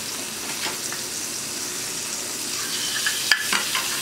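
Two small knobs of butter melting in a hot pan, sizzling softly and steadily, with a brief sharp clink partway through.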